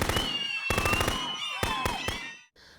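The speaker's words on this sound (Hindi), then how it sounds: "अचानक गोलियां चली।" A gunshot sound effect: several loud, sharp bursts of gunfire crack out in quick clusters separated by brief gaps, with a faint trailing echo at the end.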